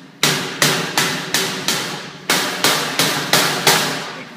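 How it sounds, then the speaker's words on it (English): A hammer taps along the edges of a sheet metal plenum, about ten sharp, ringing metallic strikes in two quick bursts with a brief pause between, close and loud with no talking. "We're going to take our hammer. Tap it along all the edges."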